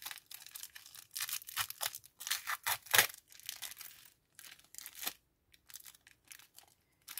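Repeated bursts of packing tape being ripped and peeled off a parcel box, crackly tearing in irregular pulls separated by short pauses, close by.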